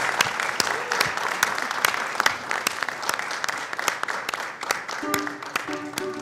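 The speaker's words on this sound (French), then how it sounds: "Merci d'applaudir pour ce modèle, s'il vous plaît." An audience at a fashion show applauds steadily with sharp, closely spaced claps. A short musical tone sounds faintly toward the end.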